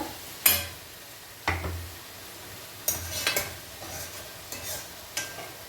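Amaranth leaves and raw mango curry cooking in a pot after a splash of water, with a few sharp stirring scrapes and soft sizzling bursts, close by and with no voices.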